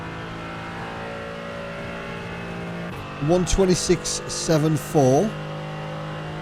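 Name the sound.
Mercedes-AMG GT3 race car engine in iRacing video game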